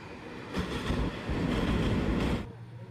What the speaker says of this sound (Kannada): ಯಾವುದೋ ಒಂದು ಕುರ್ದವಾಡಿ ಜಂಕ್ಷನ್ ಕಡೆ ಗೂಡ್ಸ್ ಹೋಗ್ತಿದೆ ನೋಡಿ,